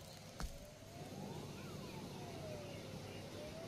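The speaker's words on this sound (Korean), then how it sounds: "소방차가 오고요" A fire engine siren wailing past in a village where a fire has broken out, its rising and falling tone sweeping across a steady roar of traffic and rain, fairly distant.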